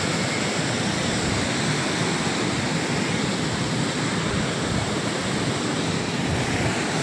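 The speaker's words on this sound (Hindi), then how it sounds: "झरना है" Vindam Falls waterfall near Mirzapur, Uttar Pradesh, a loud unbroken roar of rushing water close by, broad and steady throughout with no voices.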